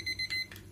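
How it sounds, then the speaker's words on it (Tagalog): A kitchen timer alarm rings in short electronic beeping bursts while beef cooks until tender in a chunky mushroom sauce with vegetables, three quick pulses sounding close and clear. "naririnig niyo na ang ating alarm"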